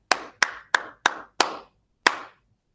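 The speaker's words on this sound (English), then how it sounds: "Let's clap. Hill and gully rider." A school class of second graders claps the rhythm of the folk song Hill and Gully Rider: five sharp claps in a quick pattern, a pause, then one final clap, loud and close with no talking.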